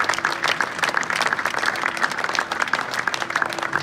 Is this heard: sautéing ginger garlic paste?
no